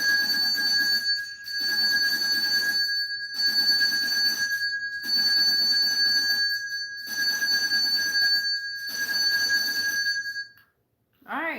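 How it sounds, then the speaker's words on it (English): A bell rung repeatedly in about six steady, bright ringing bursts with short pauses between them, loud and close, as a spiritual channeling session opens, ending in silence and a brief sound. "let's ring this bell and welcome in these energies"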